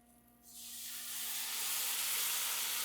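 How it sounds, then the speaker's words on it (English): Broth and crushed tomatoes hit a hot pan for masala eggs, bursting into a loud, steady steam hiss that swells after a brief quiet start and holds. "So now we are gonna deglaze the pan with a little bit of broth and some crushed tomatoes."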